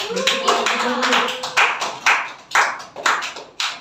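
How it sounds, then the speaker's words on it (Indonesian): Children clapping in a classroom during a micro teaching lesson, a round of scattered claps followed by several sharp, separate collective claps in a loose rhythm, with an adult voice speaking early on. "beri tepuk tangannya anak-anak"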